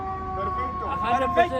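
A wailing ambulance siren rises and falls in pitch at moderate distance, with people talking over it.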